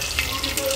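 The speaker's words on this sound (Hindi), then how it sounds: "थोड़ा सा पानी ऐड कर दूँगी।" Water is poured into a mixer grinder jar while making a saag paste in a home kitchen, a short splashy trickle heard close up.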